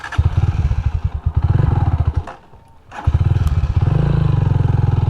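A motorcycle rides into a leisure farm campsite in Mauban, Quezon, its engine chugging loudly and close with a pulsing rhythm, briefly easing off and dipping before revving back up.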